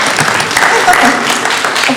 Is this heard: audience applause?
yes